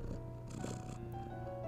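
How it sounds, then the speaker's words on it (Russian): A cat attacks in the video game Whack the Serial Killer, heard as a close, steady purring rumble with a brief hissy burst in the middle, no voices over it. "Кошка накинулась."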